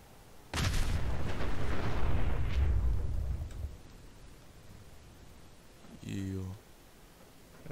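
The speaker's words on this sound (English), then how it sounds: "There was a big explosion." A loud, rumbling explosion in Fallout 4 bursts in suddenly and rolls on for about three seconds before fading, followed by a short, distinct mechanical burst a few seconds later.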